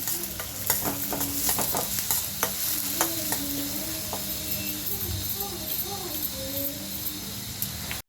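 Curry leaves frying and being stirred in a pan, a steady sizzle broken by frequent spatula scrapes and pops, with faint background voices underneath.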